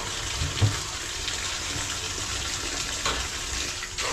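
Water poured into a cooking pot while preparing a lunch of bananas and shrimp paste, a steady splashing gush lasting several seconds with small bumps and clatter mixed in, close by and without speech.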